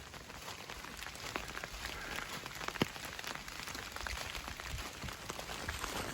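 Rain falls at a campsite during a backpacking trip, a faint, steady patter with scattered soft drops, heard alone.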